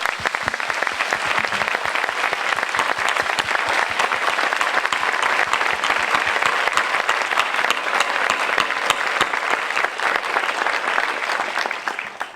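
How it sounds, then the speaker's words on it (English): An audience at a faculty speaker conversation event applauds steadily for about twelve seconds, a dense, even wash of many hands clapping at close range with no talk over it. "Could you please give her a round of applause?"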